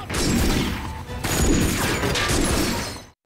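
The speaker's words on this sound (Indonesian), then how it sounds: "Beruntung tembakan tersebut meleset yang membuat Mamang Eric seketika menembak balik teroris itu" A rapid burst of gunfire rings out in a film shootout with a terrorist: loud, dense cracks crowd together for about three seconds, then cut off abruptly.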